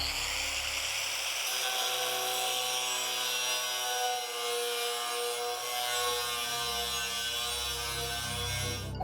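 A cut-off wheel makes a gouge cut in thin metal, producing a loud, steady high-pitched grinding whine with ringing tones that holds for several seconds, dips briefly midway, then resumes.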